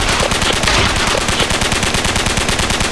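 A player gun in a video game under development fires in rapid automatic bursts, a dense, loud, unbroken rattle of shots with no talking.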